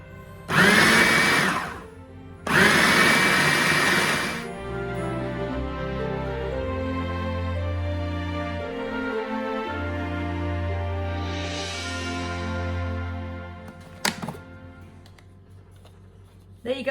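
An electric mixer blends butter-rich shortbread dough in bursts, first two short high-speed whirs, then a longer, lower steady run that slows and stops, loud and close.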